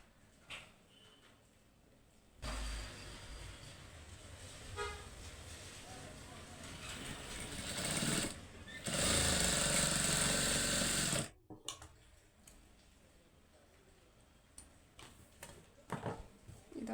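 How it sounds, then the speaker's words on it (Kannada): A sewing machine stitching a blouse without lining, running in a steady whirring burst of several seconds that rises above quieter room sound, with brief clicks and handling noises before and after. "ಇಲ್ಲಿಂದ ಇಲ್ಲಿಗೆ ಅರ್ಧ ಇಂಚ್ ಮಾತ್ರ ನಾನು ಸ್ಟಿಚ್ ಮಾಡ್ತೀನಿ."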